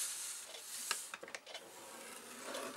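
Paper being scored for a traveler's notebook folder, a faint scratchy rubbing with a few soft taps and shuffles in a quiet room, no talking.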